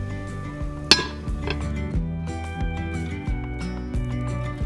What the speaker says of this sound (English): Gonna take my pans and set them over by the sink